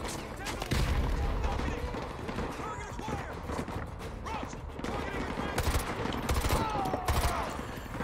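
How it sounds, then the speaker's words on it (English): Chaotic battle in Call of Duty: Modern Warfare 2 Remastered, with grenade blasts and rattling automatic gunfire mixed into a constant loud din, punctuated by heavier bursts. "Who's throwing these grenades?"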